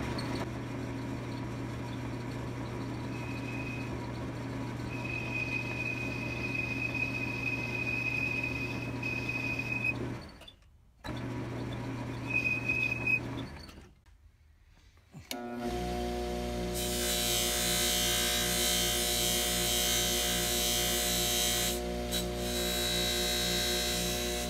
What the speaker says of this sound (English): Last step in the lathe is just to chamfer the top and very lightly chamfer the bottom edge.